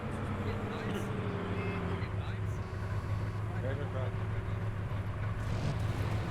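Military trucks rolling along in a video game, a steady low engine drone running the whole time at moderate level with faint background clatter.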